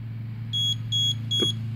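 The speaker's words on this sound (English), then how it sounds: "three beeps." Three short electronic beeps in an even rhythm from the learning button on an RF amplifier remote receiver, faint over a constant low hum with a small knock near the last beep.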